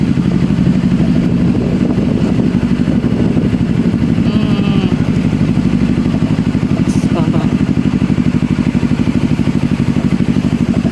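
A large motorcycle engine runs steadily and loud throughout while descending a hill with a passenger near Puncak, with brief speech from the rider over the constant drone.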